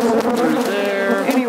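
Honey bees from a nuc swarm around during a transfer into a ten-frame hive, their close, continuous buzzing rising and wavering in pitch over a short moment.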